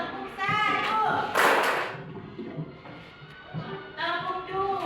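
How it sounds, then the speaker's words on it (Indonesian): A class of students claps hands in a short burst of broadband slaps, with voices talking and chanting before and after. "Oke, tepuk tangan dulu."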